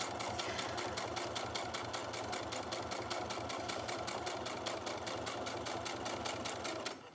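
A sewing machine runs steadily, back stitching at the end of a seam on a fabric project bag, its rapid needle clatter even and close with no pauses.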